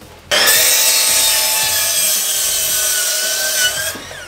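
A power saw cuts a 41-inch wooden piece for a DIY home half rack, a loud sustained whining cut lasting about three and a half seconds that starts abruptly and winds down at the end.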